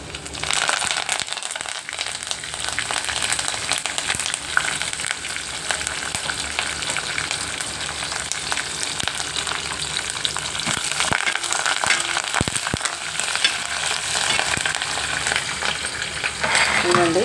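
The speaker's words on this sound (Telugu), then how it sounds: "ఆవాలు జీలకర్ర వేసుకుందాం అలాగే కరివేపాకు" Mustard seeds, cumin and curry leaves frying in hot oil for a rasam tempering crackle and sizzle loudly and steadily, with occasional stirring scrapes and pops.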